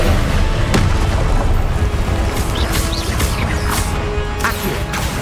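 A Confringo blasting curse in Hogwarts Legacy sets off loud, dense booms and crashes, with a sharp burst near the start and further cracking impacts over a constant rumbling roar.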